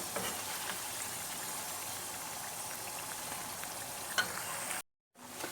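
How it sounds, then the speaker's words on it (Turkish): Tomato sauce cooking in a frying pan, a continuous even sizzle and bubbling with a faint stir, then cut to brief silence near the end. "Evet öbür tavada da sosum pişiyor arkadaşlar."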